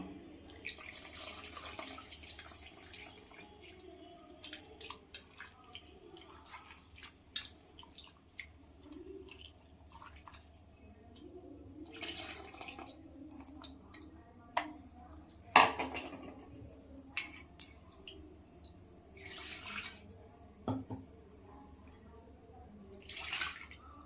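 Tamarind squeezed and mixed by hand in water for a fish kulambu, giving soft, irregular wet squelches and splashes, quiet and close, with scattered drips and a few sharper knocks.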